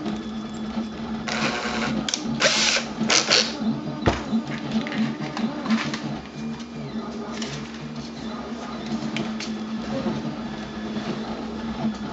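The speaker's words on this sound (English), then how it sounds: "we gotta drill two holes for the wires to fit through" A small power drill bores holes through the plastic body of a Typhoon H drone for wiring, producing a faint, buzzing whir in short bursts with light handling clatter.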